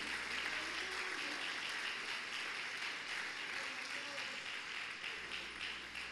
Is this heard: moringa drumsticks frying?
no